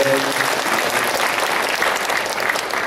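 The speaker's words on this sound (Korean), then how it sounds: "한번 저분들을 위해서 격려의 박수 한번 해주시기 바라요" A church congregation gives encouraging applause for people coming up for baptism, a loud, continuous round of clapping filling the sanctuary.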